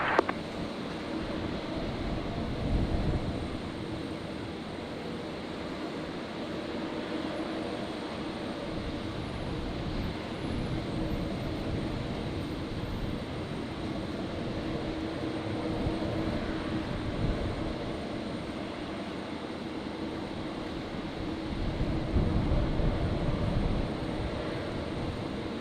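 An ex-JetBlue Embraer jet operated by Alliance taxis at Brisbane airport on a stormy night, producing a continuous, fairly distant engine rumble and hiss that swells slightly near the end, with no voices.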